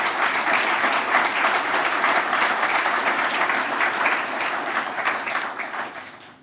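An audience applauds nurses at a hall event, a steady wash of many hands clapping that holds evenly and then fades out toward the end.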